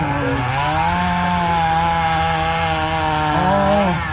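A chainsaw runs steadily and loudly at a timber show, cutting into wood with a continuous high engine whine whose pitch shifts slightly near the end, with no talk over it.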